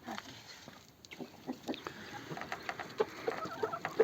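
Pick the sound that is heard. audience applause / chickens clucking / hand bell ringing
chickens clucking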